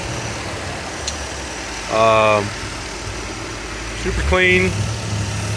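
A Lexus SC300 engine idles steadily after a cold start, a constant low hum that runs through the whole stretch while a person briefly speaks over it.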